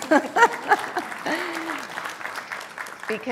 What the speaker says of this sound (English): I think that deserves a round of applause personally